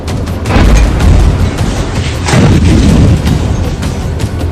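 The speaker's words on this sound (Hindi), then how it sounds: "खार्किव शहर में हुआ यह धमाका" A loud, deep explosion in Kharkiv during a Russian attack rumbles heavily, with several booming bursts rolling through the thunderous roar.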